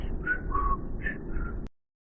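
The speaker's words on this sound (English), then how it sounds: "Did you hear that whistling?" Airy wind whistling inside Blackness Castle, rising and falling in a few short phrases, fairly faint, then cutting off abruptly into silence.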